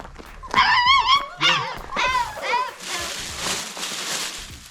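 Four newborn puppies whimpering and yipping with high, wavering cries, close by, fading into rustling and faint noise toward the end.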